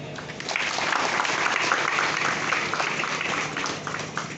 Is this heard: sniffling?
no